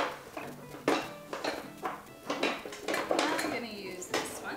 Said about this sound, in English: I'm going to stir it all around.